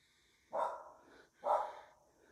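Two loud barks from a dog roughly a second apart, each sharp and close with a short breathy tail, outdoors at sunset.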